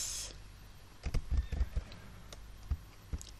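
Horse hooves galloping in the video game Star Stable, a quick run of soft clip-clop footfalls in loose clusters, moderately loud over a faint steady background.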